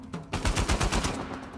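A rapid automatic-weapon burst fires in the video game Uncharted 4, a quick string of loud, evenly spaced shots lasting about a second before trailing off.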